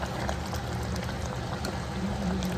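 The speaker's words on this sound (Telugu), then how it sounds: "మనం ఇప్పుడు కొంచెం వాటర్ యాడ్ చేసుకుందాము విజిల్స్ పెట్టుకోవడానికి" Water pours into a pot of boti curry as it cooks, a continuous close splashing gush with a bubbling undertone and no speech.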